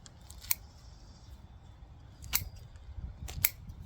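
Scissors snip through Satsuki azalea roots during repotting, three sharp, close clicks spread over a few seconds against a low, steady rustling background.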